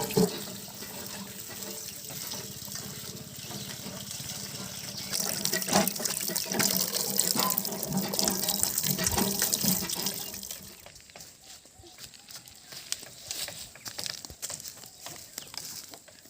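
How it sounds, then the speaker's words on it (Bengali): Running tap water splashes steadily while fish is washed in an outdoor village kitchen. It sounds close with irregular sloshing and handling, louder midway, then thins to intermittent splashes and drips. "মাছটা ভালো করে ধুয়ে নেব।"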